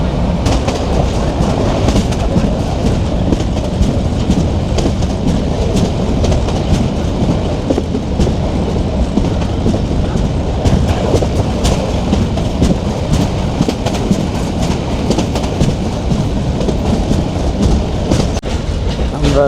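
The Prabal Express passenger train rolls from Cox's Bazar toward Chittagong, a loud, steady roar of wheels and carriages with faint clickety-clack and rattling throughout, heard from on board with no talk.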